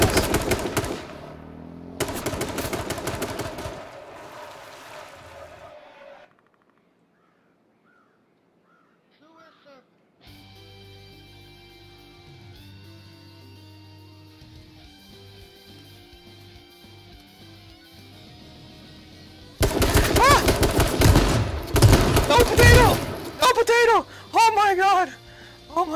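Video game gunshots, heard as loud, close bursts of rapid fire at the start and again near the end, separated by a quiet stretch with game music or tones and a crow-like caw.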